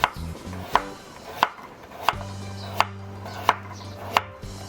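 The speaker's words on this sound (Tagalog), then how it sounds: "we're gonna cut it thinly and parang square din" Radish cut thin into squares on a cutting board for water-based cabbage kimchi: six evenly spaced, crisp knife chops, close and distinct, with a low hum between strokes.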